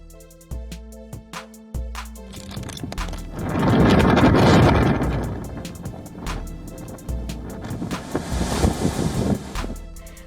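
Violent storm winds tear through a town, a loud roaring rush of wind noise that surges into a heavy gust midway and keeps buffeting in waves, with a faint steady tonal backdrop.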